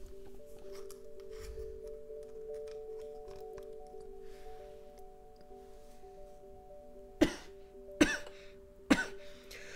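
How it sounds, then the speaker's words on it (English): Three sharp, close coughs into a microphone near the end, following a long stretch of faint background hum and quiet clicks with no talking. "Cough into the microphone because my lungs are still extremely irritated."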